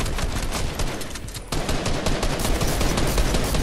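Gunfire in a Fortnite match comes as rapid, dense bursts of loud shots with a brief break at about the halfway point, close and harsh with no talking.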